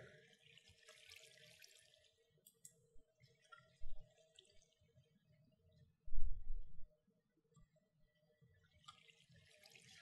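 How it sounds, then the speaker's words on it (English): Water fills and trickles in a Minecraft Feed The Beast modded machine setup, with bursts of rushing faucet-like flow at the start and end, scattered drips between, and a couple of low thumps. "Water is filling up."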